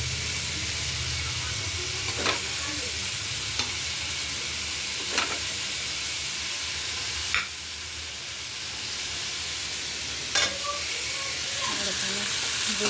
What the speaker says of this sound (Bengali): আর এখানে বড়ি ডাঁটা ঝিঙে ভেজে নিচ্ছি